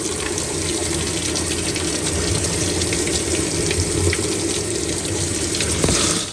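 Steady rushing water filling a washing machine that is hooked up with a drain pump, a continuous close hiss and splash lasting several seconds with no voices.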